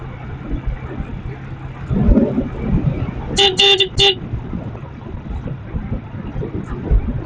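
A car horn gives three quick toots in a row on a road trip from Lahore to Chitral, Pakistan, sounding clearly over a running engine and road rumble.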